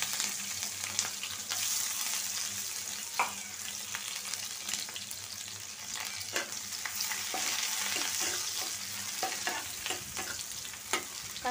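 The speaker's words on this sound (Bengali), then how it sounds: "কাঁচামরিচ পেঁয়াজটা লাল হোক।" Green chilies and onions fry in hot oil in a wok, a continuous loud sizzle with repeated scraping stir strokes and clicks of the utensil, close up, no voices.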